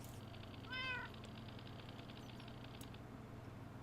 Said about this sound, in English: Hi, cat. Can I scan you?